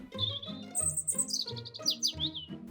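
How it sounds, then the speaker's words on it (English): Small birds chirping and tweeting in quick bursts of high, bright calls, close and clear for a few seconds with no talking. "look at the birds."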